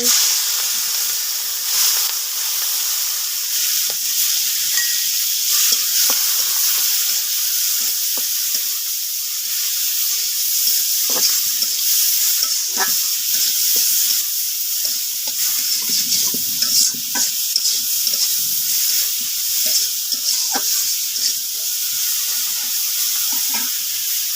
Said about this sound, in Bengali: এখানে যে আমি চিংড়ি মাছ, কুচো চিংড়ি সুন্দর করে পরিষ্কার করে রাখছি, এগুলো এখন ভাজে নেব।